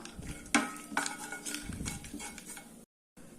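Almonds roasting in ghee in a pan alongside cashews, with repeated metal spoon stirs and scrapes over a faint frying crackle, close and fairly quiet.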